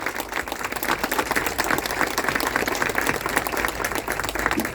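A crowd at a political coalition event with ministers gives dense, sustained applause for Pablo Mieres of the Partido Independiente. The clapping is loud and close and stays even throughout.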